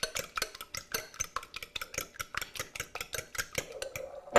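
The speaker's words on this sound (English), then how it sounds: "Let me mash a little bit of the eggs like this." Eggs get mashed in a bowl for spaghetti carbonara with a fork or whisk, a fast, even run of close clinks and taps against the bowl, about five per second, with no talking.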